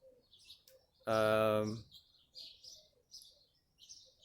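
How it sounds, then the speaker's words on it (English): Birds chirp outdoors in short, faint, scattered calls that repeat throughout, briefly drowned out near the start by a loud, sustained tonal sound. "the birds are gonna be there, making sure they're really loud"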